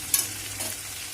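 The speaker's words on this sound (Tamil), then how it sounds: "ஸோ தேங்காய் பூ போட்டு நாம் நல்லா கலரி விட்டுக்கலாம்." Grated coconut stirred into frying drumstick chops gives a short burst of steady sizzling with a quick scrape of the spoon near the start.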